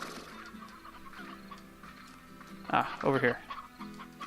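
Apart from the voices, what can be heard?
chickens clucking in Slime Rancher video game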